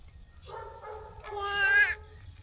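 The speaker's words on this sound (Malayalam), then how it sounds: "ക്യാറ്റാണോ ക്യാറ്റ്" A cat meows twice in close succession, the second call longer, louder and rising in pitch, over a low background rumble.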